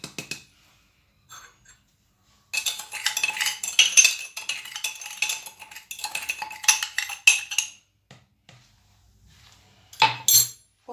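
Four large eggs and a glass of sugar are whisked by hand in a bowl, rapid metallic clinking and scraping in close bursts separated by short pauses.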